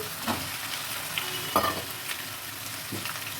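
Potato and egg frying in a pan, a steady soft sizzle with a few spoon scrapes and knocks, close and quiet.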